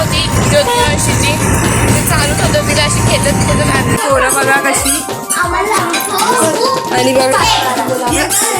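An auto rickshaw rattles along with a buzzing engine and road noise while passengers inside talk, and children's voices join at times.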